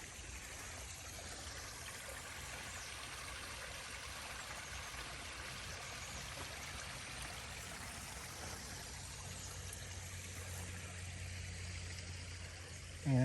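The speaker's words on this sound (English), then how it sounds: "all the little streams are active today" A small forest stream flows along a hiking trail with a steady, continuous trickle and babble of water, close by and even in level throughout, with no voices.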